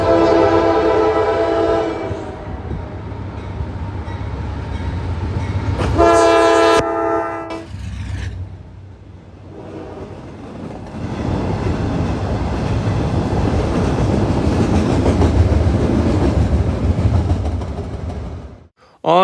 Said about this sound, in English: The train was that local freight that pulls the steel coils, with a GEVO leading and an SD70M-2 trailing